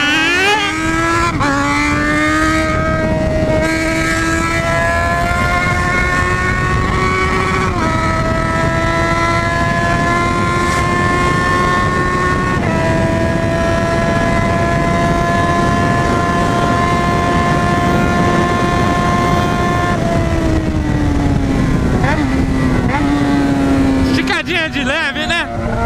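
Motorcycle riding fast on a road, its engine whining loudly and climbing in pitch through several gear changes, with constant rushing wind noise throughout.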